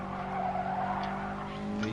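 In a PS4 racing game, a Toyota 86 Group 4 race car's engine drones continuously while its tires squeal through a skid. The sound stays loud and sustained across the whole short stretch.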